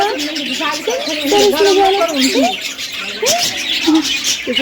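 Many birds chirp and twitter nearby at a Mahadev temple in Rajkot in a continuous bright chatter, with a person talking partly over them.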